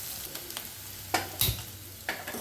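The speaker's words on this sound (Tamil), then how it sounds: "சாம்பாருக்கு தாளிச்சிட்டோம்." Tempering spices and dried chillies crackle and sizzle in hot oil for sambar, a steady close fry with a few louder sputtering bursts and stirring scrapes, no voices.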